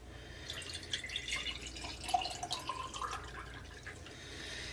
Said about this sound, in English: To that you're going to want to add 3 cups of water.